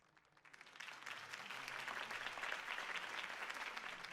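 Crowd applause in a Telltale Batman game, greeting Harvey Dent's campaign speech; the clapping starts softly, then swells half a second in into a dense, steady ovation that holds to the end.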